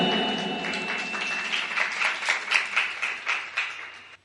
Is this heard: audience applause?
yes